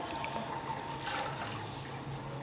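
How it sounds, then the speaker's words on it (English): Pool water at a luxury all-inclusive resort in Riviera Maya is pushed into an edge drain, a continuous nearby gurgling and splashing flow at moderate level with no talk. "if I push the water, it goes into a drain"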